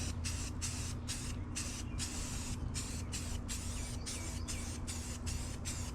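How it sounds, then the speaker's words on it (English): Satin black spray paint going on in a light coat inside a 1987 El Camino, a string of short hissing aerosol bursts in an uneven rhythm over a low steady hum, close and fairly faint, with no talking. "I'm using the same satin black paint. I'm just going to give it a light coat,"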